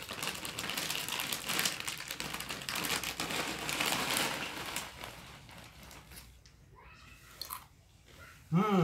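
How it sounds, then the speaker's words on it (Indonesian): Crisp, crunchy bites of salted jackfruit seed chips being chewed close up, dense crackling through most of the stretch before it quietens, with a short louder knock right at the end. "Yang pertama saya makan sangat renyah sekali."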